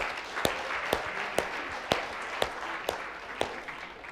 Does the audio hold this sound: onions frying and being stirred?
no